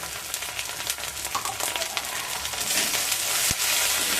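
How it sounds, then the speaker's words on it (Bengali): Spices sizzling and frying in a pan with little oil for egg curry, after onion and Kashmiri chili powder were added, a loud close steady crackle with stirring scrapes building toward the end. "মশলাটা কষানো হয়ে গেছে"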